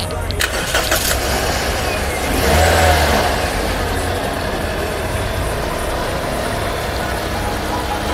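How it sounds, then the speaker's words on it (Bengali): A 2012 Toyota Premio G Package with a 1500cc octane engine idles close by, a smooth continuous hum that swells briefly partway through and then settles back to an even drone. "গাড়িটি ইঞ্জিন চালিত অবস্থায় রয়েছে"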